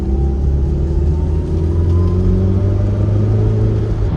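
A cheap turbocharged Toyota MR2 driving off on a short test spin, a loud, steady, close engine rumble with low droning tones throughout and no voices.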